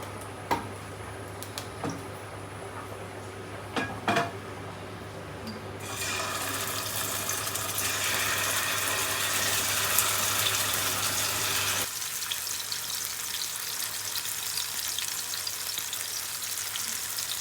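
Oil goes into a pan with a few sharp taps and clinks, then masala-coated green plantain hits the hot oil in a loud, dense sizzle that later settles into a softer, steady frying hiss.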